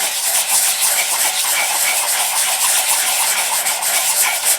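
Steady, close abrasive rubbing of 120 grit sandpaper on an English walnut HW80 air rifle gunstock, a continuous dry hiss with faint rhythmic strokes that holds throughout with no talk.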